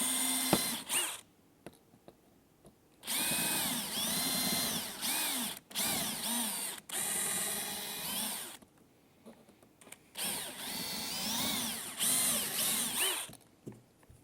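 A power drill bores out rivets on a slot car box in several short bursts, the motor whining up and down in pitch with quiet pauses between each run.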